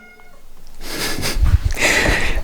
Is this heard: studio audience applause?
no